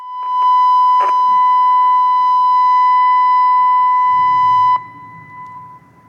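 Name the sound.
ATI siren 1000 Hz tone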